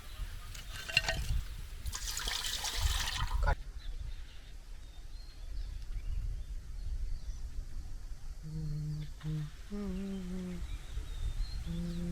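Water is poured into a pot of jaggery and sugar while making syrup for Bengali rasbora, giving a loud splashing pour for a second or two, then quieter kitchen sounds with a few faint bird-like chirps.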